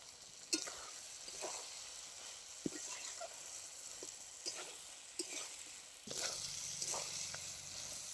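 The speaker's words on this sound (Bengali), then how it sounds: "পেঁয়াজ কলি আলু বেগুন খুব ভালো করে মাছের তেলের সঙ্গে কষিয়ে নিয়েছি।" Spring onion, potato and eggplant sauté in rohu fish oil in a pan, a faint steady sizzle broken by scattered stirring scrapes and light knocks, swelling louder near the end.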